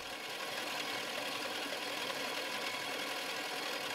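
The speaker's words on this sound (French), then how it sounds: "Ici, le moteur est utilisé pour le fonctionnement de ce broyeur polyvalent." A solar-assisted engine driving a multipurpose grinding mill hums continuously, broadband and even, with a faint knocking vibration and no pauses or voices.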